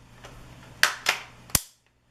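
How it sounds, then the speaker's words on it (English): An AR-15 short-barreled rifle fires three sharp, cracking shots in quick succession, each with a short decaying tail, followed by near silence. "It's almost like shooting a very loud airsoft gun."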